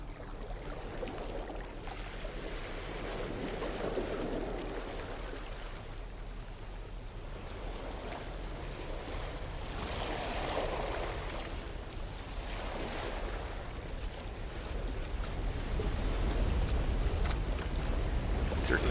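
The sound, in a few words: nighttime sea storm, waves and wind, in video game No Man's Sky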